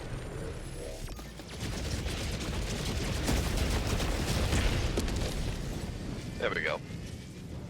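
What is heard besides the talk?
strafing run gunfire and explosions hitting bots, from a video game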